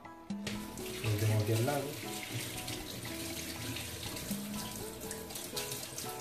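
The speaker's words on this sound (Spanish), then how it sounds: "lo primero de todo, es lavarla con agua tibia debajo del grifo" Warm water runs steadily from a tap, splashing close by over an aquarium plant being rinsed, while a person speaks briefly over the flow.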